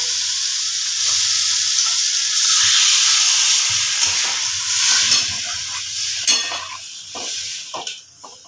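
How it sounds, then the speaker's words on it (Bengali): Water is poured into an egg curry in a hot pan, setting off a loud hiss of steam and sizzling that gradually fades, with a few clinks of a utensil against the pan near the end. "এবার আমি জল দিয়ে দেবো"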